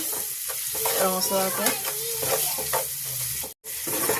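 Something fries in a pan with a constant sizzle while a spatula scrapes and stirs through it in brisk strokes, close by; the sound cuts out briefly near the end, and no one speaks.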